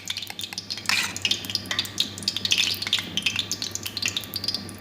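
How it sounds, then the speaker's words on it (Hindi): Pakoras for dahi bade frying in hot oil, spooned in one at a time over medium heat, giving a steady crackling sizzle with occasional metallic clinks of a spoon against the pan, close and moderately loud. "अब हम इसमें खाने की चम्मच के साथ 1-1 चम्मच भर के इसके पकोड़े फ्राई करते जाएंगे।"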